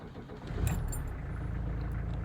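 A 1985 Peugeot 505 turbo diesel, warm, cranks and fires within a second, then settles into a steady, loud low rumble of idle close by.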